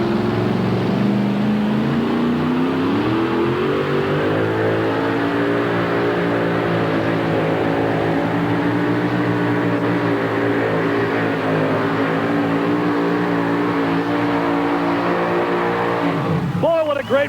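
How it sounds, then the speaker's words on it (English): A 650 cubic inch two-wheel drive pulling truck engine roaring loud and steady at a truck pull, its pitch climbing and holding near full throttle, with an announcer talking over it. "650 cubic inches of pulling power coming at you right now."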